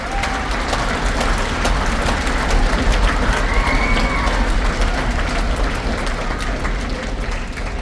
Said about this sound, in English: so all of you, let's give them a round of applause